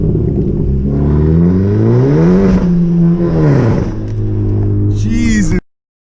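Car engine fitted with a catless downpipe revving hard and close, loud throaty drone rising and falling through a couple of long pulls before cutting off abruptly.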